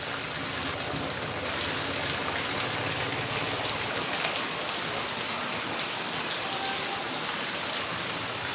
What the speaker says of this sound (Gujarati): જો ભૂંગળામાંથી વરસાદ હજી એટલો ને એટલો ચાલુ.